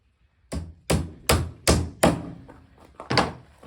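A hammer drives nails into the glued box joints of a wooden beehive box, with about six loud, close, evenly spaced thuds and an extra quick double tap near the end.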